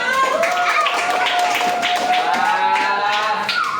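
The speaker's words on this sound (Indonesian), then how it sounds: "tepuk tangan semuanya" A school class applauding on a teacher's cue, heard as dense, continuous clapping from many hands, with a voice talking and exclaiming over it throughout.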